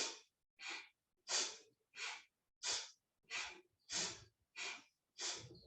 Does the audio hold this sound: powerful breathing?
yes